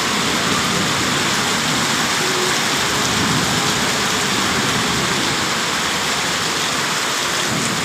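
Heavy rain pours on an open rooftop during a thunderstorm, a dense, continuous roar of falling water that stays loud and even throughout with no voices.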